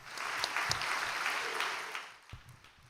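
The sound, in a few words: audience applause of congratulations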